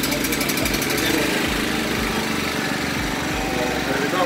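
A Champion 4000-watt generator engine runs loud and close after a choke start, with a steady rough drone and pulsing low-end thumps; voices can be heard under the engine noise.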